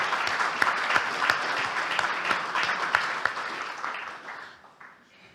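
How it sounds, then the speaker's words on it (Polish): An audience applauds a prize laureate at a Polish lecture event, steady dense clapping that holds for several seconds, then thins and fades out at the end. "Brawa dla laureata."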